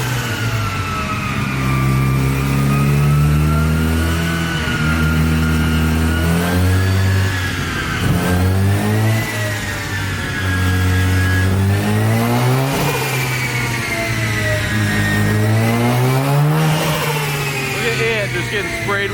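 A Mazda FD rotary engine revs repeatedly during a tuning session, its pitch climbing and falling in long sweeping pulls, loud and close throughout.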